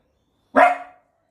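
One sharp, close dog bark rings out alone against silence and trails off quickly.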